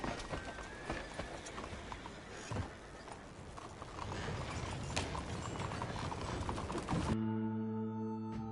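Horse hooves clip-clop steadily in a video game as the horse is ridden, a continuous rhythmic trot under soft mechanical game sounds, ending with a sustained musical tone near the close.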